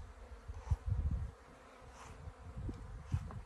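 Bees buzzing as a captured colony, taken from a termite mound where it had been attacking workers, is moved into a hive box; a low, uneven buzz rises and falls with brief louder surges near the microphone.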